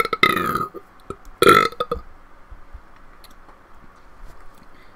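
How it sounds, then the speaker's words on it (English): An in-game character in the survival RPG Kenshi lets out a loud burp near the start, then a second brief burp about a second later, with faint ambient game sounds continuing afterward. "That's the burp of good luck."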